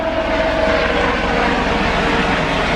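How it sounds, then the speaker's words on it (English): An airplane takes off near an airport beside an arboretum walking loop. Its loud, steady engine roar fills the whole moment, with no speech. "here another plane taking off now"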